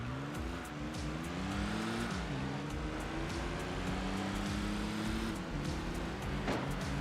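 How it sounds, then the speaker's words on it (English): A classic car's triple-carburettor inline-six engine in Enthusia Professional Racing, revving up and shifting through gears with a rasping, climbing note, loud and close throughout. "that sounds so good! The classic triple carb inline 6"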